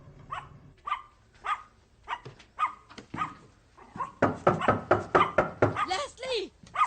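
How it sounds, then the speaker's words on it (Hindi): A dog barks repeatedly behind a closed door, the barks growing denser and louder toward the end, while people talk over the noise. "कम से कम अपने कुत्ते का मुंह बंद तो करो।"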